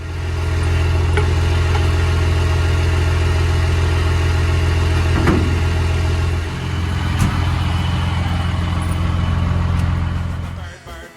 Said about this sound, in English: We'll throw the drive shaft in the back of the truck and blast over to Rock Bay and say hi to Ken.